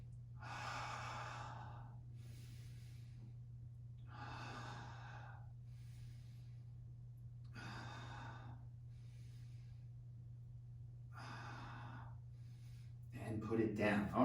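Four strong, evenly spaced breaths, each lasting about a second, taken during an intermediate mat workout. They are heard close up over a steady low hum, and a brief clatter comes at the very end.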